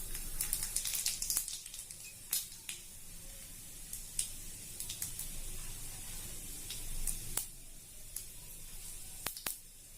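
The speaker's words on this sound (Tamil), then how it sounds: "கடுகு, உளுந்து போட்டுக்கலாம்." Mustard seeds and urad dal spluttering in hot oil, tempering for a Tamil brinjal poriyal, with sharp scattered pops and crackles over a soft sizzling hiss.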